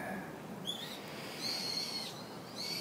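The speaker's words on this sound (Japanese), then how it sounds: "鳥がですね思いっきり鳴いてるんですよね" Several high, thin bird calls ring out in a park in autumn over a soft hiss of background noise, short whistled notes spaced irregularly.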